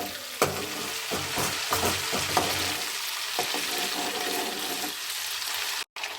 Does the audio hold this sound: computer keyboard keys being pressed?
no